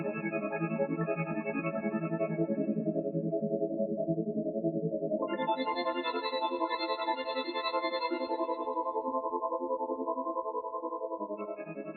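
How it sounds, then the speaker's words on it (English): Granular synthesis of a sine-wave sample on an Elektron Tonverk gives a continuous, dense, shimmering synth drone whose pitch layers shift partway through and hold steady at even loudness, with no voice. "You've got an example playing here, a sine wave."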